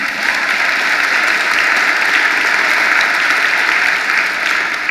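Sustained applause from a large audience at a political speech in Seattle, a dense, even wash of clapping that stays loud throughout.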